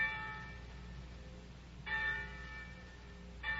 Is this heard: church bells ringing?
yes